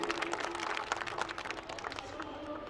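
Audience clapping at a Hindi comic poetry recital, a dense, steady patter of many hands filling the hall, with crowd noise mixed in.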